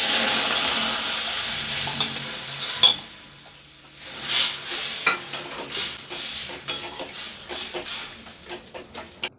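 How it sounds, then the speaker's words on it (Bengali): Masoor dal with drumstick stalks poured into well-fried spices in a pan, breaking into loud sizzling and hissing, with stirring scrapes and clinks of the spoon against the pot. "এখানে মশলাটা আমার ভালো করে সবটা কষানো হয়ে গেছিলো, তাই মুসুরির ডালটা সবটাই ঢেলে দিলাম।"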